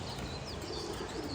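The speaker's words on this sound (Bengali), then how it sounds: "এই নর কবুতর মাশাআল্লাহ খুবই সুন্দর।" A male Surma khaki pigeon coos softly, the low, muffled calls half-buried in a steady hiss of background noise.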